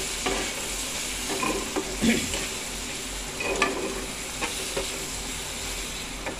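Rajma masala with chilli powder and green chillies sautéing in a pan: a steady close sizzle with scraping spoon strokes and a few louder clatters, no talking.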